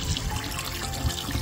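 Water gushing steadily from a motor pump, a continuous close splashing flow with no voices.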